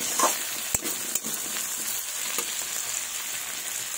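Potato pieces fry in hot oil in a pan for a fish curry, a dense, even sizzle that runs throughout with a couple of brief stirring knocks near the start; no talking.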